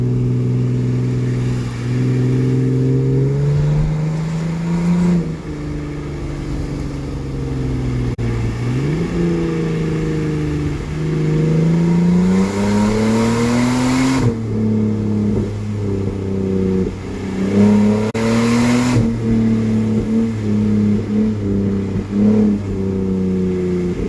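A Lexus GS300 engine with a broken exhaust revs up and down repeatedly with a loud, raspy, blatting exhaust, rising and falling in pitch for a long stretch.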